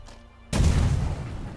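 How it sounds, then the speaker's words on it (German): A sudden deep boom bursts after a quiet moment, then rumbles and slowly fades, loud and close; an explosion in the video game The Witcher 3 on PC. "Oh, diese Explosion, da hinten ist noch was."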